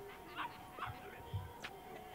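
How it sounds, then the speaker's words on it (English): A dog whimpers and yelps as men kick it in the video game Yakuza Kiwami, a few short faint cries spread over about two seconds beneath game ambience. "Are there just like a bunch of guys kicking a dog?"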